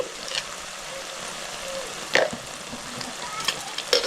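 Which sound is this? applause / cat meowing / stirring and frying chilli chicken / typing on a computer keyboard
stirring and frying chilli chicken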